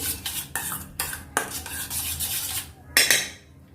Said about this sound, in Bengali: এগুলো ভালো করে এখন মিক্স করে নেব।